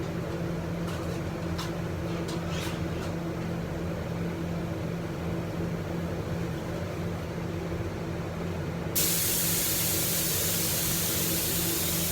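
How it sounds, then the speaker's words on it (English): A spray gun applies polyurethane to guitars while shop fans drone steadily. A loud, even hiss of spraying cuts in abruptly near the end. "Got the spray gun all hooked up there."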